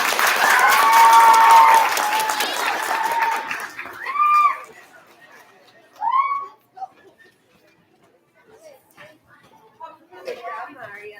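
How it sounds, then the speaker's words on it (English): A school crowd applauds second grade award recipients at an elementary recognition ceremony, a loud burst of clapping and chatter that fades after a couple of seconds into scattered voices. "Can we have a round of applause for our second grade award recipients?"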